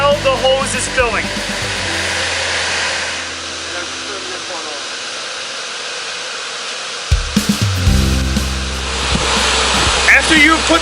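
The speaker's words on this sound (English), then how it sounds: "do not turn your vacuum off. Leave it going while the hose is filling." Steady whooshing rush of a hose filling an above-ground pool and a pool vacuum's motor drone, with a louder surge partway through and brief voices over it.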